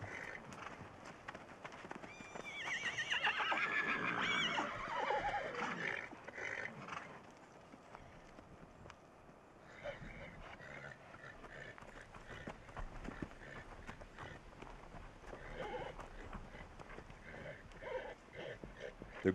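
Wild mustang foals spar with a yearling in open country, hooves thudding in scuffling bursts with a brief squealing neigh, fairly faint and distant, fading into quieter rustling movement.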